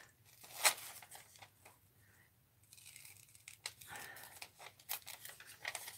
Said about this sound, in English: Let's trim this off.